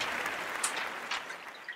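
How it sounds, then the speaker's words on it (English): Steady audience applause fills the room, a thick patter of many hands with a few sharper claps and faint whoops standing out. "let's give them a round of applause, everybody."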